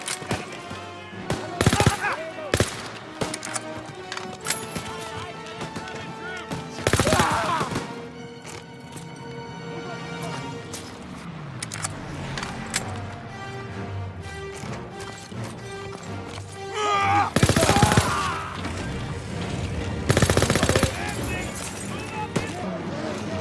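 Gunfire and explosions fill a World War II battle in Call of Duty: WWII, with sporadic shots and heavy blasts over constant combat noise while soldiers shout orders throughout.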